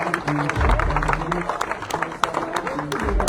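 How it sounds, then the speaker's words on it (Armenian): A crowd claps at an outdoor political election rally, dense applause mixed with crowd noise while someone speaks loudly over it and low booming music thumps underneath. "Ծափերով ողջունում ենք ժողովրդին։"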